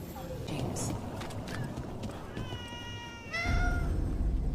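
A cat in the video game Dragon Age: The Veilguard gives a clear, close meow near the end, following a stretch of game ambience and faint background sounds.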